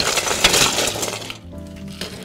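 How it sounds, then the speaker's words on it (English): Ice topping up a cocktail glass during a sloppy pour of a Sloppy Joe's Special, heard as a dense burst of clinking and rattling cubes that fades into quieter settling clinks. "we're just gonna top her up with a little bit more ice"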